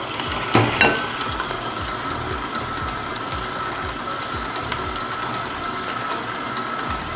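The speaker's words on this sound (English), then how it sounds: "Turn the mixer to medium and we'll let those come and get a nice consistently" An electric mixer at medium speed beats cream cheese, sugar and an egg mixture, producing a steady, close mechanical whir with a rhythmic pulsing churn and a couple of brief clunks near the start, with no talk.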